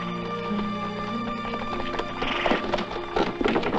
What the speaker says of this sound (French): Faites aussi monter 2 chevaux, il y a de la place.